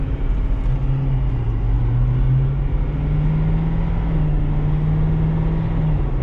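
A 2022 Ford F-250 STX FX4 with a 6.7L V8 diesel accelerates, a steady loud engine drone rising gently in pitch over continuous road rumble, heard from inside the cab with no talking.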